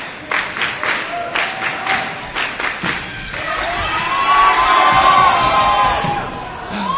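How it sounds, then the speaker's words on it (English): A gym crowd at a Purdue vs. Illinois college volleyball match claps in rhythmic unison for a set point serve, then swells into loud cheering as a ball thuds during the rally. "as the gym erupts in customary claps for the set point serve"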